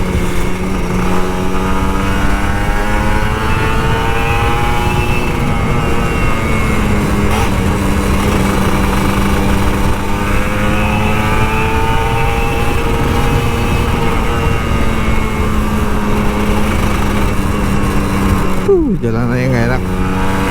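An older Kawasaki Ninja RR 150 motorcycle is ridden over a rough road with light throttle. It makes a steady, buzzing engine drone that rises and falls gently, with a short rev sweep near the end.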